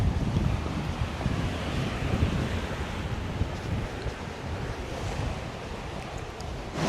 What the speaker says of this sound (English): But the sea is too rough, definitely.